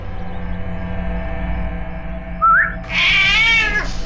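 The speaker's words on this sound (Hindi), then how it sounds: "ये है वो बिल्ली जो खूनी को पहचानती है।" A cat gives two meows, a short rising one followed by a longer, louder wavering one, close by over a low background hum.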